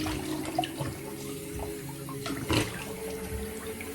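Cold water runs steadily from a tap into a sink while a shaving brush soaks for a straight razor shave, giving a continuous close splashing wash with a brief louder surge midway and no talking.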